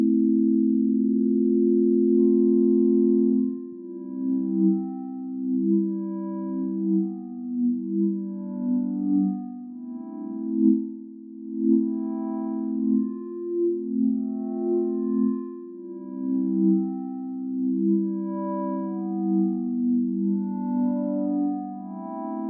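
A soft synth pad played on the Massive software synthesizer, holding a steady low chord with gently shifting upper tones that drift and pulse over about twenty seconds, with no talking.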